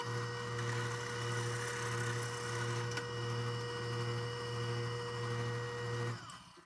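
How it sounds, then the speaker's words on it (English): A small tool boring a 5/8-inch hole through an epoxy and wood ring blank: a steady, close whine with a regular pulsing hum for about six seconds, then it stops abruptly, with no talk. "We're going to go ahead and drill a hole into the blank, and that will give us the inside diameter of the ring."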